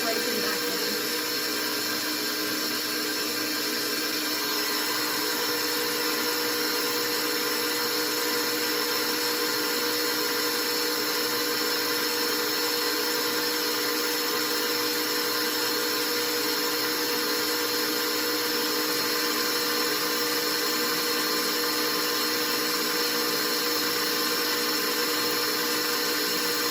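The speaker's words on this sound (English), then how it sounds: "All right, mixer on." An electric mixer whips marshmallow fluff with a continuous loud, steady motor whine and whir that holds unchanged throughout, close and unbroken.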